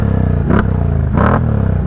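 A four-wheeler ATV engine drones close by during a wheelie, with a continuous low rumble broken by two short revving bursts, one about halfway and a longer one shortly after.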